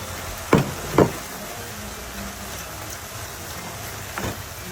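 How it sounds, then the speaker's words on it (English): Chopped onion cooking with beef in a casserole pan, a low steady sizzle with a few sharp knocks of a utensil against the pan, close and with no one talking. "we're going to add our chopped onion, but we're only going to cook it for about 1 more minute"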